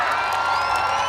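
Large outdoor crowd at a provincial celebration concert cheering, whooping and shouting in a steady, dense roar with no clear pauses.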